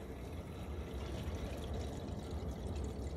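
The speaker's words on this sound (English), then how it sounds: "you can hear water entering the system." Water flows steadily into a sealed domestic heating circuit as the system pressure is topped up, a continuous low rushing hiss that stays quiet and unbroken throughout.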